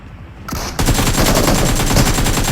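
Rapid shotgun fire in PUBG on the Miramar map, a dense, loud string of repeated blasts that grows heavier partway through and continues without pause.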